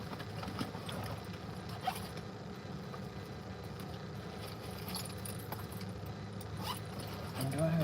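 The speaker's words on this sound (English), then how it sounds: "Car keys need to go in my sock." A set of car keys jingles and clinks faintly up close in a quiet room, with brief metallic rattles scattered over a soft background hum.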